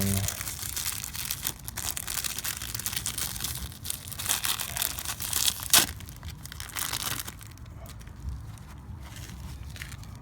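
Plastic packaging around a new oil filter for a 2010 Toyota Corolla 1.8L is torn open and crumpled by hand, making crinkling, ripping rustles over about ten seconds.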